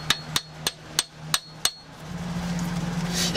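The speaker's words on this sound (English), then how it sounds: "Auto body hammer." Six sharp metallic strikes from an auto body hammer on a Toyota 5VZ-FE V6 engine during timing belt work, at a steady, even rhythm, ringing briefly, then a grinding, rising mechanical noise takes over.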